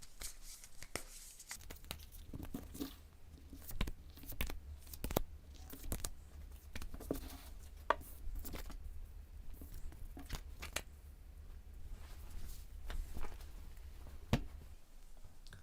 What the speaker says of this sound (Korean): 카드를 좀 더 뽑아보도록 하겠습니다.